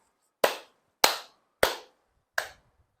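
Four crisp, separate hand claps from a classroom group playing an ice-breaker counting game, spaced unevenly at roughly half-second to one-second intervals, close and alone without voices.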